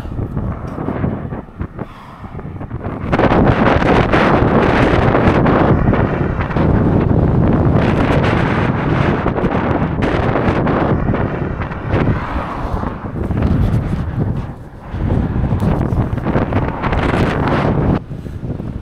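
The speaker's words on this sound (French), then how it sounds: "Le vent, le vent, le vent." Strong gusts buffet a cyclist on the road near Ushuaia, a loud, continuous roar of wind noise battering the microphone, swelling and easing in waves for the whole stretch with no voice over it.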